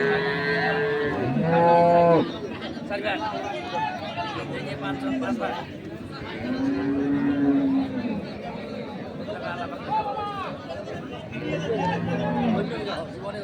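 A dairy cow and her calf low repeatedly at a busy village cattle market in Ambari, Dinajpur, with moos carrying over steady crowd chatter and people talking nearby.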